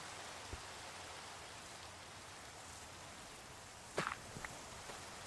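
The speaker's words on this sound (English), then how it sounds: "I like rain in Minecraft" Rain in the Minecraft video game falls as a soft, continuous hiss throughout, with a couple of faint footsteps and brief taps near the end.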